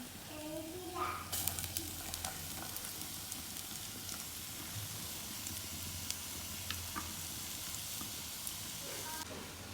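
Mango ginger sizzling in hot oil while frying for pickle, a steady crackling hiss that swells when pieces drop in and then holds evenly, with a few clinks of a spoon against the pan.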